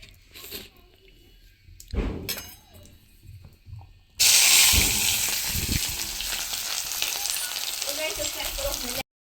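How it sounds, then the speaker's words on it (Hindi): Vegetable curry with garlic frying in a pot over an open wood fire in a village kitchen, a loud steady sizzle that bursts in suddenly after a few quieter clatters and continues. "तो यहाँ पे मेरी सब्जी बनने लगी है"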